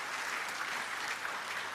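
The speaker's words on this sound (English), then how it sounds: "Can you give them a round of applause?" Applause from an audience seated in the Eastern Cape provincial legislature during the State of the Province Address, a steady wash of many hands clapping at moderate level throughout, with no voices over it.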